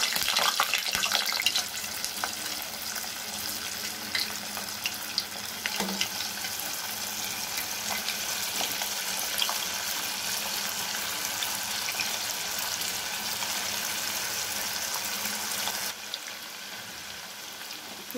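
Veg manchurian balls deep-frying in hot oil over a medium flame, a constant bubbling sizzle that holds at the same level throughout, with no voices.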